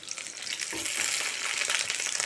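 Garlic sizzles steadily in a hot pan for garlic chutney, a close, even frying hiss with faint stirring and no speech.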